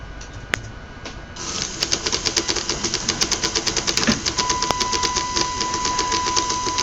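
Motorized fischertechnik roller model running with a loosely built motor-to-axle linkage, producing a fast, steady mechanical clatter of rapid regular clicks over a whirring motor, close and loud, starting abruptly after a quieter hum.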